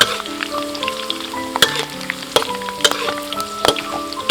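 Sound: deep-frying glass fish with chili, kaffir lime and pandan leaves

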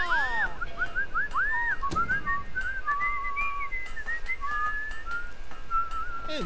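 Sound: character whistling in the video game Fable

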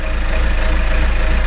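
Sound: diesel engine starting and running

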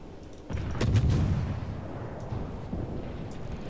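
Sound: warship artillery fire in World of Warships video game

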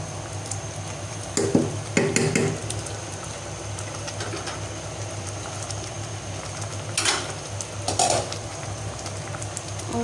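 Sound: tadka (tempering) sizzling in pan for dal

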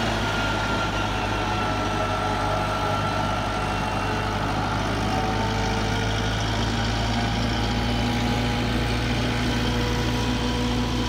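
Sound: tractor engine working, clearing dirt

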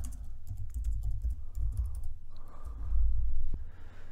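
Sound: typing text on a computer keyboard

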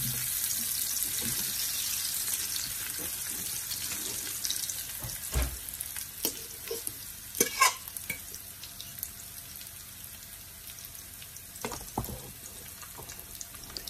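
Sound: potatoes dropped into very hot oil, sizzling

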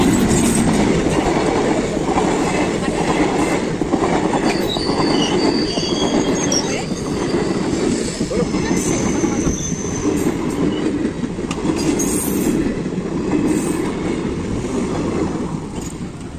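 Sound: passing train

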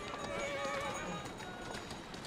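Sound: horse carriage in a video game

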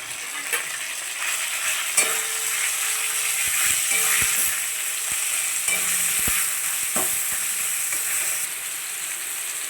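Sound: chicken mince frying in a pan

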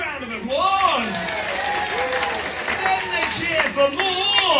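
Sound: audience applause at cabaret magic show

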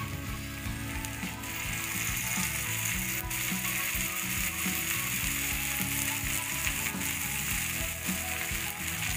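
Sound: thalipeeth made from soaked poha frying in oil on pan

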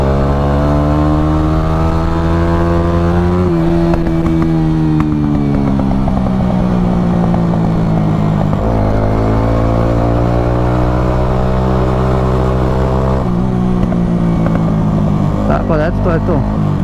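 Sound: Honda motorcycle engine running during a ride

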